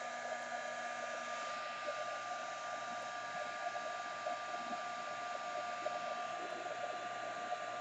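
A hair dryer blows steadily on paint on a heart-shaped mixed-media canvas, a constant whooshing whine at close range with no talking.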